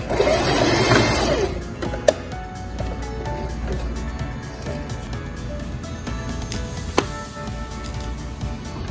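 Sewing machine stitching a bustier seam, a fast mechanical whir with a louder burst at the start, then softer steady running marked by a couple of sharp clicks.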